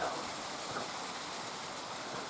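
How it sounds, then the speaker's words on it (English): Soft, steady rain patters and hisses continuously at low volume, with no voices. "Now it's raining, you hear it?"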